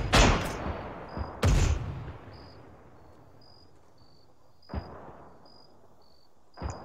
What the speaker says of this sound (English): that's the artillery firing